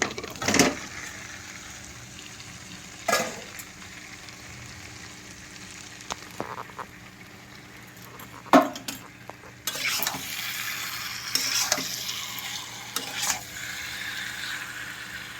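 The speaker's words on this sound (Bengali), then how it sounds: "চিকেনটা ভালো করে কষবো" Chicken being sautéed in a fried spice paste in a pan, a low continuous sizzle broken by scraping stirs and sharp utensil knocks against the pot, fairly close.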